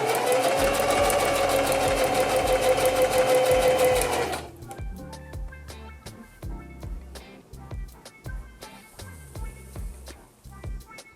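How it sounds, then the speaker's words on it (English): A sewing machine stitches a dress, running in one loud, steady burst for about four seconds, then starting and stopping in short uneven runs. "after quite a bit of sewing, we have a base dress done."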